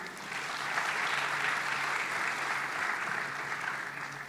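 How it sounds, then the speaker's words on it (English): A large audience at an event with N. R. Narayana Murthy, Nandan Nilekani and Salil Parekh on stage applauds, giving a dense, steady roar of many hands clapping that holds at even loudness throughout, with no talk over it. "So another round of applause for that."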